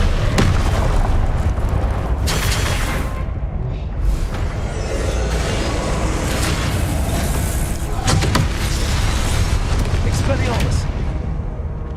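Repeated blasts of the Confringo fire spell in the Hogwarts Legacy video game, loud booming bursts that crowd the whole stretch in a continuous combat din, with a voice talking over them.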